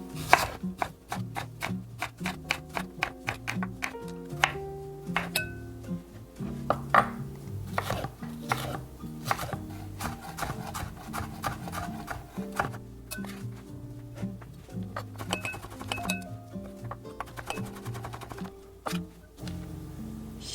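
Bamboo shoots are chopped on a board with a knife, a steady run of crisp, close strikes repeating quickly throughout over soft tonal music in the background.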